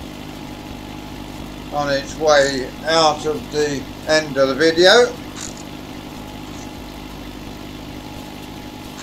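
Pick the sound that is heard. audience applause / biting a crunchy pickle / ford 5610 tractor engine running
ford 5610 tractor engine running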